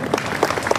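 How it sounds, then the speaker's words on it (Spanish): Applause honouring the flag of La Convención province at a Coca Raymi celebration of the coca leaf, a short burst of steady clapping with a few louder claps standing out, fairly close and alone without talk. "Aplausos por nuestra bandera de la provincia de la Convención."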